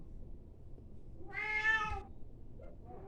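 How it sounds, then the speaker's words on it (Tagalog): A cat gives one clear, drawn-out meow nearby, followed by the start of a second, over a quiet low background hum. "May pusa pa."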